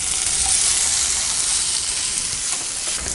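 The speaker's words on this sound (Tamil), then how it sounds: "வெங்காயம் தக்காளி நல்லா வதங்கிட்டுருக்கு." Onion and tomato with ginger-garlic paste and salt sautéing in a pan for cauliflower poriyal, a loud, even hiss of frying held steady throughout with faint stirring.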